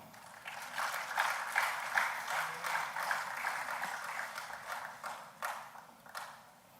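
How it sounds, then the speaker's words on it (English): A seminar audience claps steadily in a dense, even wash of applause as speakers take their seats on stage, swelling and slowly tapering off, with no voices over it. "A round of applause, please, everyone"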